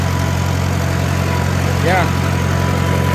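A Farmall A tractor engine idles steadily and close by, a low continuous rumble with a brief voice speaking over it partway through.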